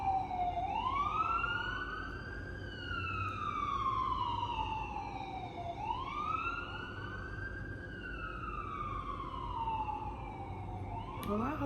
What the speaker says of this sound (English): I'm like, that's the ambulance?